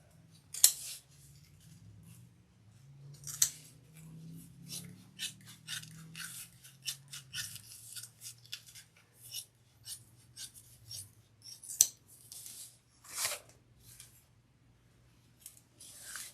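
Duckbill scissors cutting fabric for a crossbody bag, a close series of crisp snips and rasping slides through cloth in an irregular rhythm, quiet between cuts and with no voices.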